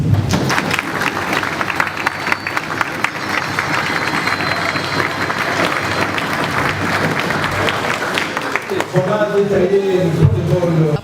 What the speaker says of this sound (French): Je crois qu'il mérite encore un peu d'applaudissements